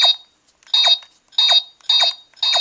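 Five short electronic beeps from phone keypad buttons, evenly spaced, each a bright, buzzy, high-pitched chirp standing alone with silence between them.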